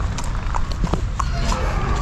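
A horse walks on the ground in Sri Lanka, its hooves giving a few soft, close clip-clop beats over a loud, steady background rumble, with no talk.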